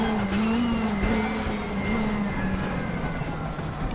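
Race car tyres locking up under braking in the WTCC17 touring car sim at Salzburgring, a squealing tone riding over a loud, steady engine drone for about four seconds, with no talking.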